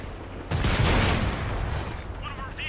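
Tank cannon fire in World of Tanks, a sudden heavy blast that swells into a rumbling, crackling burst of battle noise and then gradually fades, heard at a moderate distance.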